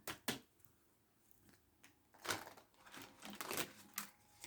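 A deck of tarot cards being shuffled by hand up close, giving a string of quick, irregular papery snaps and riffles with no talking.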